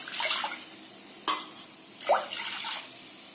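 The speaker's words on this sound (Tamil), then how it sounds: "இந்த பருப்பை நல்லா ரெண்டு தடவை கழுவிடுங்க" Chana dal lentils are rinsed in water for payasam, with brief splashes and swishes in a pot plus a sharp clink partway through, close and quiet without talk.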